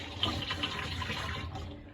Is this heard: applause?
no